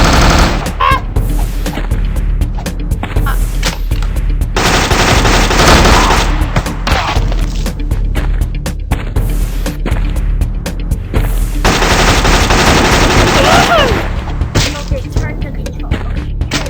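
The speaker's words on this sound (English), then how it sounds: "Oh no, you got a machine gun." Rapid machine gun fire in the video game Gun Mayhem Redux, loud, close bursts of rattling shots repeating in long stretches, with booms and thuds from the game in between.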